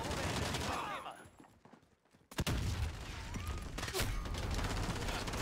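A shotgun fires in Modern Warfare, a sharp loud blast cutting in after a brief quiet spell, amid continuous gunfire, battle clatter and low background game noise.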